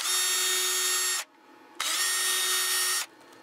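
Power drill driving flathead screws in a home shop, with two loud whirring bursts separated by a short pause, close to the listener.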